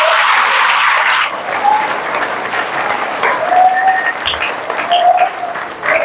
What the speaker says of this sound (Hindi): फिर से जोर से ताली बजाएंगे